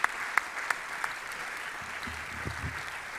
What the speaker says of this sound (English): let's give another round of applause to our two speakers